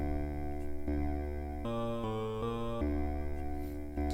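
Voice-made synth line with chorus on it, imitating a synthesizer: a sustained, harmonically rich buzzy tone that steps through several pitches over about four seconds, steady and loud with no pauses.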